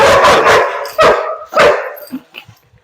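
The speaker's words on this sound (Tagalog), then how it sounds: "laki ng aso" Three deep, loud barks from a large dog nearby, one after another, then a few softer trailing sounds.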